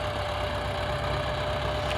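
A YuMZ tractor engine drones steadily while ploughing a garden with moldboard ploughs in differential lock, a close, continuous low rumble with a faint knocking texture and no speech.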